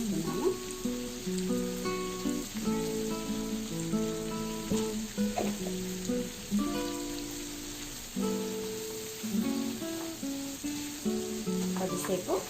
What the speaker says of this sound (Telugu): కొద్దిసేపు ఒక 2 మినిట్స్ ఫ్రై చేసుకున్నాము. ఓకే అండి, ఆనియన్స్ ఫ్రై అయిపోయాయి.